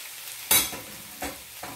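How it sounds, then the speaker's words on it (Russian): Mushrooms frying in a pan, heard as a light, close sizzle broken by three sharp stirring scrapes at uneven intervals, with no talk. "пока обжариваю хорошенько грибы"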